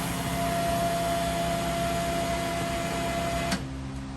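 An Alpha Vac vacuum machine runs its timed vacuum cycle with a steady, loud mechanical hum and a constant tone, then cuts off abruptly near the end, leaving a quieter residual rumble.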